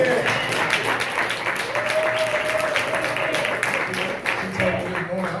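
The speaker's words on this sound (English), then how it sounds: "If everyone could give my wife a round of applause." A church congregation applauds for the deacon's wife, a steady wash of clapping through the whole stretch with voices and cheers mixed beneath it.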